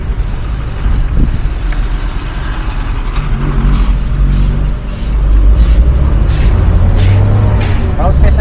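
A van out on a road test in traffic, engine rumble low and continuous with hissing air-brake bursts and passing truck and bus noise rising around it, loud and close throughout.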